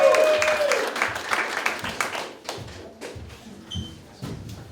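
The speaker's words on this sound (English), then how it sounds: "allowing the applause to die down before I could reach the microphone" At a comedy night, audience applause fades out, a fairly close crowd clapping that thins into scattered separate claps over a few seconds, with a faint whistle-like tone and some voices mixed in.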